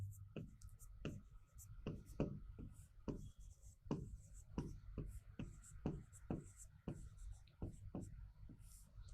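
Writing by hand with a pen on paper: a steady run of close, scratchy strokes in an even rhythm, with a faint, quiet voice in the background.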